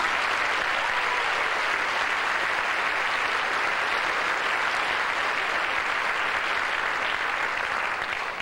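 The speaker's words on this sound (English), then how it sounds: "Symphonic Choir a round of applause for that great piece." A large audience applauds steadily and loudly at a school choir show after a symphonic choir piece, a dense, continuous wash of clapping throughout with no voices.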